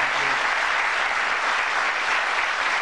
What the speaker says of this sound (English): Nice warm round of applause for these lads